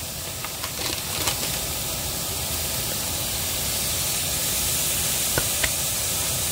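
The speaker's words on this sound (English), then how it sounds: "I don't have any oil in these, but you can hear that sizzle." Steady broadband hiss of beef burger patties sizzling in a hot frying pan without oil, continuous and fairly loud throughout, with a few faint clicks and pops.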